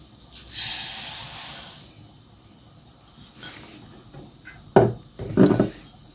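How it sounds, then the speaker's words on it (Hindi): A gas stove burner for dry roasting sesame seeds hisses loudly for about a second and a half as the gas comes on, followed by quiet and a few short clicks and rustles. "फ्लेम मैं ऑन कर लूँगी, बिल्कुल स्लो फ्लेम पे हम अपने तिलों को फ्राई करेंगे, ड्राई रोस्ट करेंगे।"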